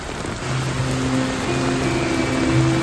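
Heavy rain pours down at Kollur near Mookambika Temple in a dense, steady hiss, with a low rumble of traffic or engine hum underneath.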